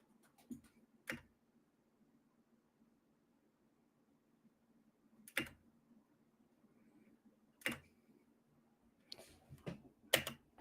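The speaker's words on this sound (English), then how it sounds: "what is going on with the keyboard?" Sparse, isolated clicks from a computer keyboard sound in a quiet room, about eight sharp taps spread unevenly, some paired close together, over a faint steady hum.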